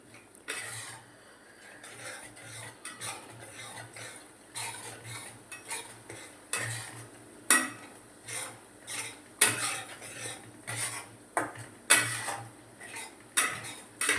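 A spoon stirring cashew paneer curry masala in a pan, scraping and clinking against the metal in an uneven rhythm, close and moderately loud, with a low hum underneath.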